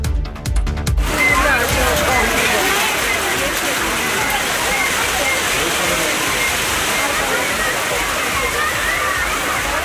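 Pouring rain falls over Kodaikanal's Star Lake, where tourists ride boats; a steady, dense wash of rain and splashing water fills the whole span, with a brief louder rumble at the start.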